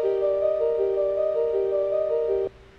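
A Famitracker chiptune test song at speed 6 and tempo 160 plays steady square-wave synth notes in a repeating pattern, then cuts off abruptly just before the end.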